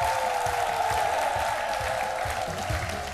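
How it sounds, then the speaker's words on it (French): A studio audience on a midday television show applauds loudly and continuously for an event organizer, with a steady tone sustained beneath the dense clapping throughout. "On applaudit très fort pour lui"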